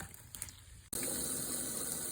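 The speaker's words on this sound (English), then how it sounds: "Shock them noodles with cold water so that they can stop cooking." Cold tap water gushing steadily over cooked noodles in a kitchen sink, loud and continuous after a brief quieter stretch with a sharp cutoff.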